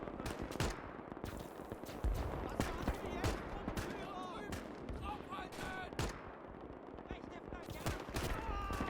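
Gewehr 43 semi-automatic rifle and surrounding gunfire in the WWII game Gates of Hell during a late-war trench assault: rapid sharp cracks and bursts, some close, others distant, over a busy battlefield din with a voice talking.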